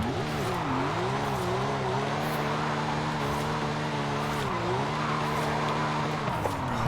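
A Porsche 911 GT3 drifts in the Forza Horizon 5 racing game, its tires squealing in a loud, continuous whine that wavers in pitch over the engine roar, with no speech.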